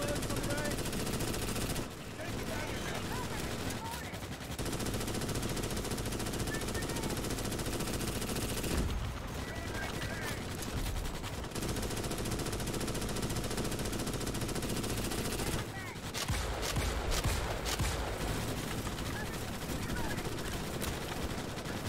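Dense machine-gun fire in a Starship Troopers-style shooter game rattles almost nonstop, loud and close, broken by a few brief pauses, with voices talking over it.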